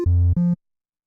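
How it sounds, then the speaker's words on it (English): A Waldorf Quantum synthesizer playing a triangle wave sounds two short, clean sustained tones, a lower note then a higher one, each ending abruptly, with silence after. "There's triangle."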